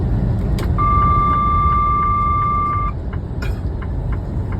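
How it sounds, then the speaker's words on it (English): A truck passes on a highway near a weigh station, its broad rumble under steady road noise while a sustained electronic tone sounds for a couple of seconds inside the vehicle. "we'll just get out of it and let this truck go by"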